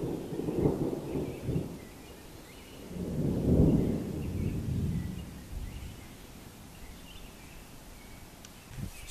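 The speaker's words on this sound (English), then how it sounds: "Starting to thunder, it's all clouded in, wind's starting to blow." Low thunder rumbles outdoors as a storm approaches under clouded skies with the wind picking up, two broad swells of rolling rumble over faint rain and rustling.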